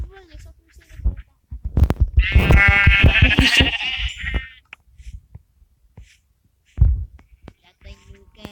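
A sheep bleating loudly and close, one long wavering cry followed by a shorter one later, with thumping handling noises and a voice around it.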